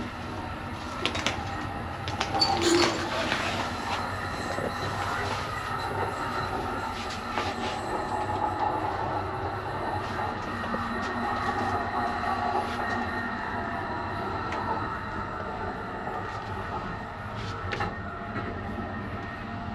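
An Amtrak long-distance passenger train travelling across the USA gives a steady, close rolling rumble and rattle of rail cars, with faint higher squeals and clanks scattered throughout and no talking.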